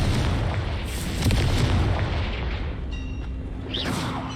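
A Confringo spell explosion in Hogwarts Legacy, a loud close boom with a rumbling, crackling body that swells and lingers for several seconds, followed by a whooshing magical sweep and a faint tone.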